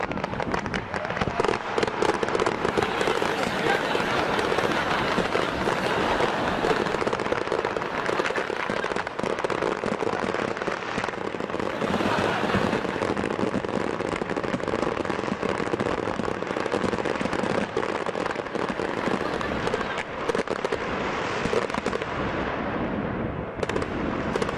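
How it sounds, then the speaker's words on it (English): A large fireworks display fires all at once after a technical hitch, a dense, loud, continuous barrage of crackles and booms with no pause between bursts. "all the fireworks went off in under a minute"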